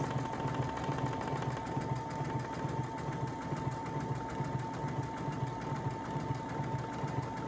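A Brother Essence VM5200 sewing machine running steadily, a fast even mechanical whir with rapid needle pulsing and a faint constant hum, close and uninterrupted.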